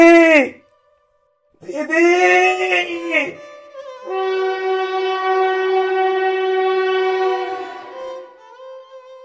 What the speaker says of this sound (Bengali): এমন সময় হঠাৎই পিছন থেকে ট্রেনের তীব্র হুইসেল শুনতে পেলাম।